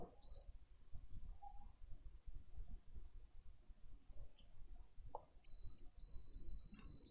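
A multimeter gives a thin continuity beep, one brief tone early on and a longer steady tone near the end, while a technician tests components on an automotive transmission control module in a quiet workshop.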